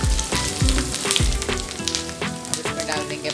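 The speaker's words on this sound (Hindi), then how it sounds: "इसमें डालेंगे हम 8 से 10 लहसुन की कलियाँ और 8-10 डाल देंगे इसमें काजू, को भी अच्छे से एक बार चला लीजिए।" Garlic cloves and cashews sizzle and fry steadily in hot oil in a pan, a loud continuous crackle with a few louder pops and occasional stirring, no talking.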